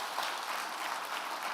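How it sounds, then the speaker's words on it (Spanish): Dense, steady applause from a church congregation fills the space, a broad even wash of many hands clapping together without a break. "Denle un aplauso al Rey bendito."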